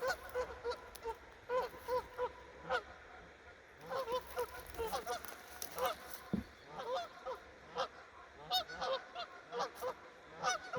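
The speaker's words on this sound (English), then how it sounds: "There's a goose nest right here." Geese honk repeatedly in loud, overlapping calls beside a nest at a forest camp on Thurston Bay, British Columbia, a steady outdoor chorus with no talking.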